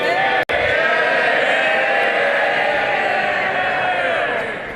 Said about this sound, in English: You will see from the loud cheer just how popular the former minister was.